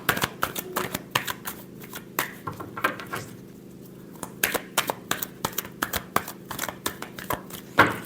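A deck of tarot cards shuffled close up in quick rhythmic riffles and snaps, a brief pause in the middle, then more rapid shuffling ending in a firm tap.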